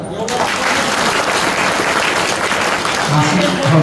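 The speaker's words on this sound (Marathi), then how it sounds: "टाळ्या वाजवा." Sustained applause from a crowd of villagers at a kirtan during a Harinam Saptah festival fills the whole stretch, dense and steady, with voices faintly mixed in near the end.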